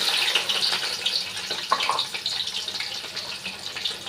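Onions go into hot oil for a home-cooked biryani, giving a steady, close broadband sizzle that hisses on throughout with slight crackling variations and no voices.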